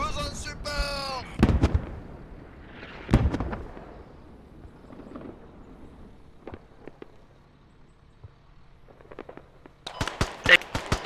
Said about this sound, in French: J'ai entendu des tirs!